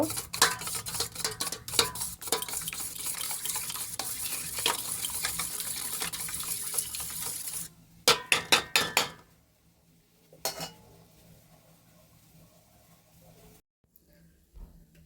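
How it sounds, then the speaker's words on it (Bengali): Two eggs with salt and biscuit crumbs are beaten in a bowl for chicken kabiraji. Rapid, dense clinking and scraping of the utensil against the bowl lasts about eight seconds. After that come a few separate taps and then near quiet. "আর নিয়েছি দুটো ডিম আমি একটু নুন দিয়ে দিলাম ডিমের মধ্যে আর এটা বিস্কুটের গুঁড়ো ডিমটা আমি ভালো করে ফেটিয়ে নেব"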